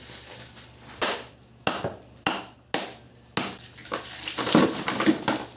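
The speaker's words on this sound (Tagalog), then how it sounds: "Pangmalakasang martilyo. Basagan natin ng yelo mga sisid." A series of hard, sharp hammer strikes crack into ice, about six blows spaced roughly a second apart, followed by crunching and scraping of broken pieces.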